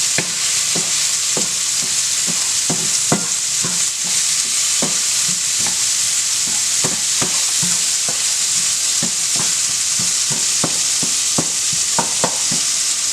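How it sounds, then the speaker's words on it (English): Onions with curry powder and black pepper stirred in a sizzling pan before shrimp go in, with a steady frying hiss broken by regular clicking scrapes of a utensil, close and loud, no speech. "stir this up"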